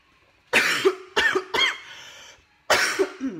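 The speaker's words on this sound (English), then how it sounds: "Excuse the coughing." Several harsh coughs from one person, close and fairly loud: a double burst at the start, two quick coughs a moment later, then another pair after a short pause.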